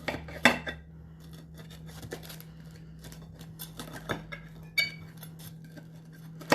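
A knife cutting through a quesadilla on a plate, with clinks and scrapes of metal on the plate and a few sharper knocks over a low steady hum, close by, no talking.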